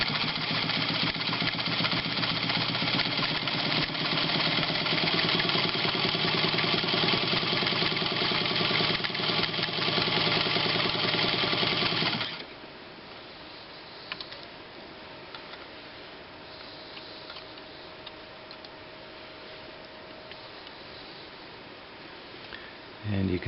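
A Montgomery Ward 21 Jewel Supreme automatic sewing machine stitching a full-width zigzag, a steady close motor whir with fast mechanical ticking for about twelve seconds before it stops, leaving quiet room tone.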